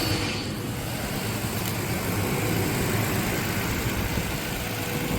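A Toyota Tacoma truck engine idles quietly just after an oil change, a steady, even low hum with no audible tick, heard alone and close throughout.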